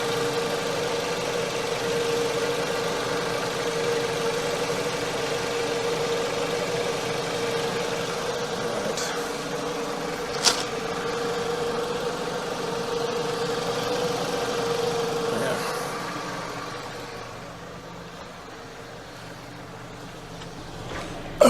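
A Dodge Avenger 2.4L Dual VVT engine idles steadily with a low, even hum, nearby and moderately loud, with a brief click partway through and the idle easing off toward the end.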